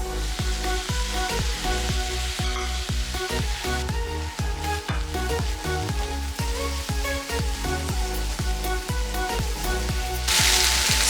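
Bacon sizzles and fries in a pan while carbonara is being cooked. A loud, dense crackle runs steadily throughout with a rhythmic, pulsing background and a brighter hissing surge near the end.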